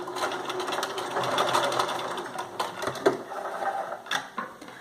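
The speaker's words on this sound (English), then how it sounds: "Make sure to back stitch." A sewing machine back stitches a drawstring bag seam in close, busy bursts of mechanical rattling and clicking. The needle speed rises and falls between short pauses.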